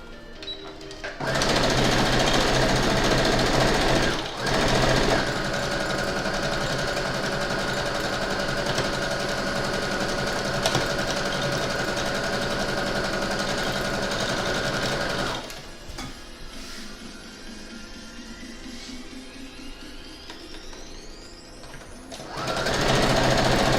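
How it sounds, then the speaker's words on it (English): A sewing machine stitches a quilt block on a folding table, running loud and steady at close range for long stretches. It pauses briefly once and stops near the end, and a rising whine is heard while it is quieter. "sewing on a folding table"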